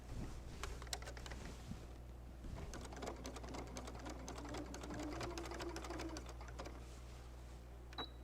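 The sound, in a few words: sewing machine stitching a quilt wall hanging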